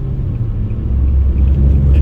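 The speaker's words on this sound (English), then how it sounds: "Those are the rumble strips." Deep, steady low-pitched rumble of car tires on highway rumble strips, loud and continuous with no voices.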